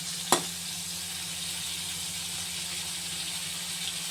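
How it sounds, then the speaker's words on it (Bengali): Shrimp frying in a kadai, a steady close sizzle and hiss throughout with a single sharp click near the start. "চিংড়ি মাছ ভাজাটা দেবো, আমি আলাদা কড়াতে এই জন্য ভেজে নিচ্ছি।"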